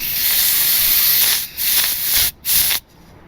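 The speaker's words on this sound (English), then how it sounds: "See what happens when I blow air in here?" Compressed air hisses hard into the valvetrain of an abandoned engine, a loud steady blast broken by two brief pauses before trailing off near the end.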